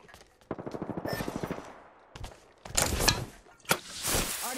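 Machine gun in a video game firing a rapid, evenly spaced burst, followed by heavier, louder bursts of gunfire and impacts close by.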